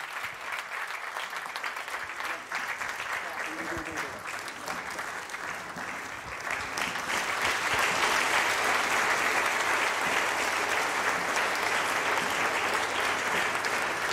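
Sustained audience applause at an Italian national literary prize ceremony in Trecastagni, a dense wash of clapping that swells louder about halfway through and carries on steadily to the end, with no voices on top.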